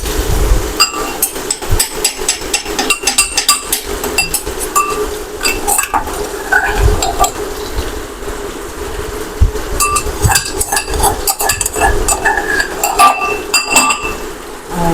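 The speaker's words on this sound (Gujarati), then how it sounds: "હવે આપણે બટેટા સારી રીતે હલાવી અને આદુ લસણની પેસ્ટ નાખી દઈશું અંદર." A spoon clinks repeatedly against a pan as potatoes are stirred with ginger garlic paste during home cooking of potato sabzi. The metallic scraping and tapping is fairly loud and irregular throughout.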